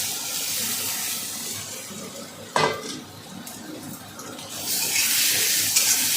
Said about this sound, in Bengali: পেঁয়াজের সঙ্গে চিংড়ি মাছগুলো একেবারে ভেজে নেব।